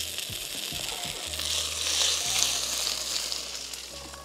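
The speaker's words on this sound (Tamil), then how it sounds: "இஞ்சி அது கூட போட்டு வதக்கலாங்கண்ணே" Garlic and ginger sauté in hot oil for a village-style quail curry, a steady close sizzle with occasional stirring scrapes and low thumps, no talking.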